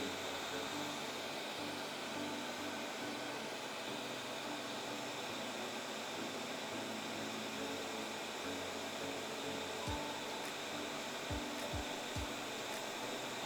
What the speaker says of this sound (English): The turbine is already warm, so you can skip the warm-up mode now.